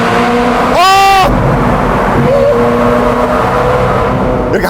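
A 15-year-old mid-engine supercar's engine drones loudly and steadily from nearby, and a brief higher tonal whine rises over it early on.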